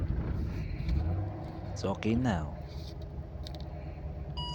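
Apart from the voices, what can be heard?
Chevrolet Caprice engine cranking and starting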